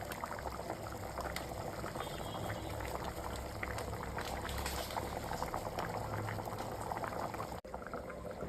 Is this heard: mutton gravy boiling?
yes